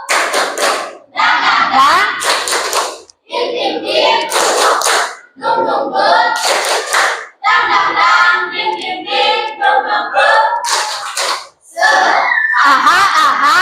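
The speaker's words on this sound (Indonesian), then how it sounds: "Ya, tepuk semangat baru." A classroom of students performs a rhythmic spirit clap routine, bursts of patterned hand clapping mixed with shouted chanting voices in repeated short phrases, loud and close with brief pauses between rounds.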